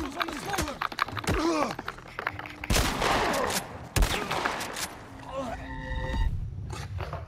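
Pistols fire during a gunfight in the video game The Last of Us Part I. Sharp shots crack at irregular intervals among scuffling and game sounds, and voices shout over the action.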